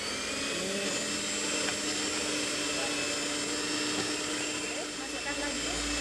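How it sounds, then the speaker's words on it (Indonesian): Electric mixer whirring steadily through marble ginger cake batter, a constant motor drone lasting the whole stretch at moderate level. "sedikit demi sedikit sambil kita mixer"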